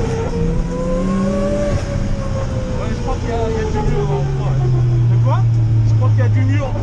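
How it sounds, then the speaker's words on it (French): A drifting Nissan S13 with a worn differential whines steadily over loud engine drone and revving, the pitch sliding as the car slides, with a voice talking over it. "le sifflement que vous allez entendre, c'est le bruit de mon différentiel qui fait ça."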